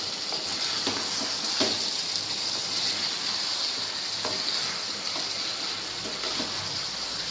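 Potato curry frying in a pan while being stirred, a steady soft sizzle and hiss with faint scraping, continuous and fairly quiet throughout, no voices.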